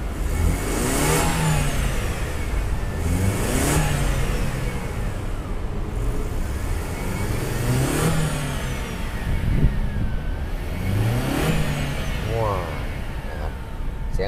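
A Mercedes-Benz E-Class W211 E200 Kompressor engine revs up and settles repeatedly, several rising and falling bursts over a steady idle, close by with occasional voices nearby.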